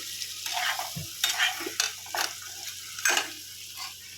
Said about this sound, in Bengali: আলু পনির দিয়ে দিয়েছি একটু মশলার সঙ্গে কষিয়ে নিয়ে জল দিয়ে দেবো